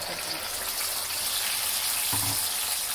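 Ground sambal paste fries in plain hot oil for a salmon fish sambal, giving a steady, fairly quiet broadband sizzle with a brief low thump just past the two-second mark.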